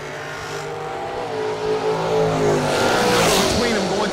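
A dragster and a Malibu at a bracket drag race, loud engines revving and roaring with rising pitch sweeps toward the end, while an announcer talks over the noise.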